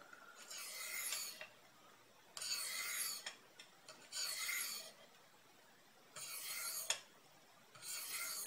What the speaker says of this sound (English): we're going to hone it back up again